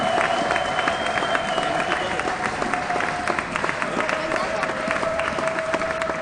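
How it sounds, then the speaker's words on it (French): A church congregation applauds and cheers in praise of the Lord Jesus, a dense, steady wall of clapping and crowd voices lasting throughout at full loudness. "Acclame encore très fort le Seigneur Jésus."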